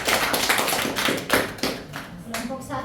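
A small classroom group claps for a presenting team, a short burst of uneven hand claps that thins out into a few final taps.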